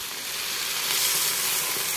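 Canned tomatoes and milk poured into a hot pan of toasted spices for a lamb curry, a steady hissing sizzle building slightly, ending in a sudden louder splash.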